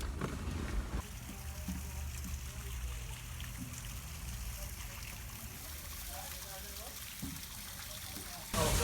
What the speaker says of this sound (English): How lovely it is that I'm being greeted by this fountain area, this pond